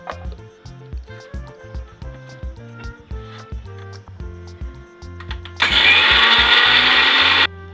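A blender grinds cumin, coriander and chopped ginger into a smooth paste, bursting into a loud, steady high whir for about two seconds near the end after a stretch of quieter rhythmic tonal sound.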